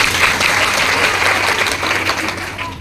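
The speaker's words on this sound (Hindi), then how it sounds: "अभी एक बार इनके लिए तालियां हो जाए।" An audience claps together at a business seminar. The applause is dense, loud and sustained for the whole moment, with a few voices faintly mixed in.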